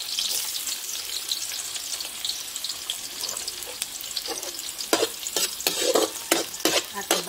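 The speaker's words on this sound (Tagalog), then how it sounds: "Gigisa po natin yung ating bawang." Garlic is sautéed in hot oil in a pan, with a continuous sizzling hiss at close range and a burst of spatula scrapes and clatters toward the end.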